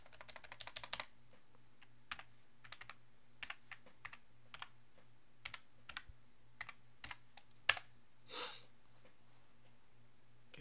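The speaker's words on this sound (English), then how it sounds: "So we could type in something like google.com here." Keys tapped on a computer keyboard while a web address is entered, a quick run of light clicks in short bursts with pauses, fairly close and quiet, ending in a firmer keystroke and a brief rustle.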